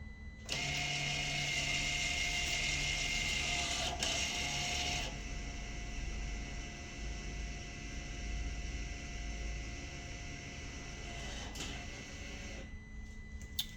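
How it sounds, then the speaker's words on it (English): Electric handbrake on a Mercedes B-Class winding its rear caliper pistons back out, a steady close mechanical motor whir and buzz running for several seconds, then a quieter hum that cuts off at the end. "you can hear the pistons winding back out"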